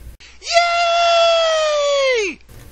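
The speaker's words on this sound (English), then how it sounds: "Shrill, annoying scream!" A single shrill, sustained scream holds steady for nearly two seconds, loud and piercing, then drops off sharply at the end, standing alone against near silence.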